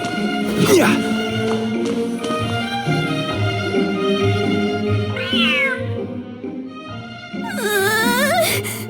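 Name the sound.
cat hissing and meowing in video game Genshin Impact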